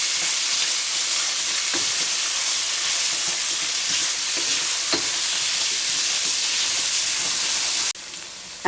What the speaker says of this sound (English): I'm going to go ahead and add in a couple of tablespoons of tomato paste. And stir it around to coat the veggies.